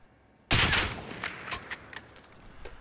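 A sudden burst of gunfire in the video game Call of Duty Warzone, with a loud volley followed by scattered sharper cracks and ringing echoes that fade into quieter shots.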